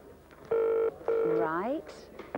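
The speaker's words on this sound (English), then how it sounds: "Now, the phone is ringing. I'll just switch that so you can hear it." A telephone on a live 1989 Going Live! TV phone line rings in two clear electronic bursts, followed by a sliding tone and faint voices.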